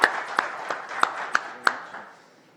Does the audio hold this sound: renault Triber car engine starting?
no